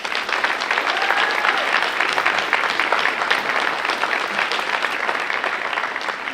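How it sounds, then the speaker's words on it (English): Sustained applause for Apple Blossom Festival contestants and their families, a dense crowd clapping steadily and loudly without pause. "give them and their families a great round of applause for all that they have done here today too."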